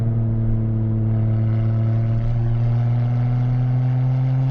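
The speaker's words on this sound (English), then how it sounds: "Oh, that engine's roaring now." A car engine roars as it accelerates along a road, a loud, steady drone with a strong low hum that gradually builds, no talking over it.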